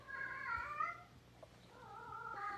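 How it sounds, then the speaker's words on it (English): A house cat meows indoors, two drawn-out, wavering calls separated by a short pause, fairly faint and close, with no talking. "That's our cat. Our cat is cutting up right now."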